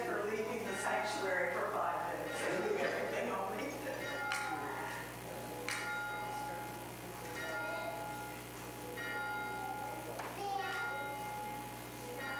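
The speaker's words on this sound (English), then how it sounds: "We begin our service with the ringing of the bell" A church bell rings at the start of a Sunday service at Unity of Kanawha Valley, with several clear strikes spaced a few seconds apart under quiet background voices.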